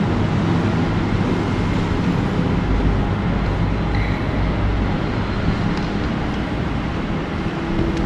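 A train stands at a Malaysian station platform for Butterworth, giving off a steady, loud, low rumble and hum with faint metallic noises, and no one speaks.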